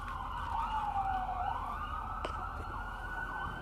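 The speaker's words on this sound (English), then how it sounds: "Gonna have to excuse the sirens." Emergency sirens wail in the distance, a rising and falling tone sweeping slowly over a low background rumble.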